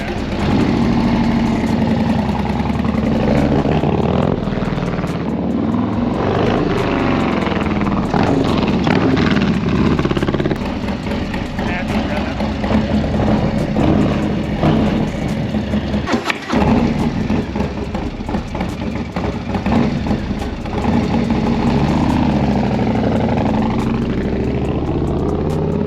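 A Harley-Davidson motorcycle fitted with a 131-inch motor runs steadily throughout, a loud, rough, continuous engine roar with a brief dip midway, heard up close.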